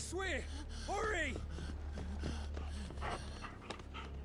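A dog in the video game Final Fantasy 16 pants and whimpers close by over a low steady hum, with rising whiny voice-like tones early on and soft breathy huffs after.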